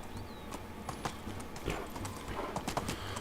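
Donkey hooves clip-clop in steady rhythm across a medieval village in Medieval Dynasty, close and fairly clear over faint ambient game background, with a few louder hoof knocks.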